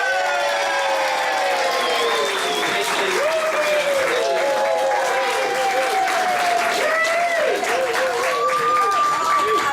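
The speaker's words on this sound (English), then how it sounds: "the biggest round of applause, please, for the Flower Girls" A wedding crowd at the groom and best man speeches gives a long, steady round of applause for the flower girls, with cheering and voices riding on top throughout.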